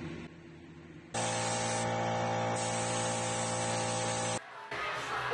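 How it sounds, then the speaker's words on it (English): A refillable aerosol can sprays in one loud, continuous hiss lasting about three seconds over a low hum. It cuts off briefly, then a second burst begins. "Away from the refillable aerosol can to this."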